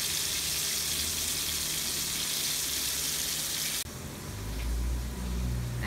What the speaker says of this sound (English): So he has some here seasoned up with green seasoning. Just seeing it, you can see it being fried.